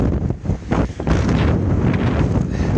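Strong wind buffets the microphone outdoors on the Hayduke Trail near the Paria, a loud, continuous low roar with gusty surges and no voices.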